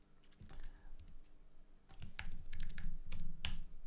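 A computer keyboard is typed on nearby in short bursts of quick, crisp key clicks with brief pauses between, quiet and without talking.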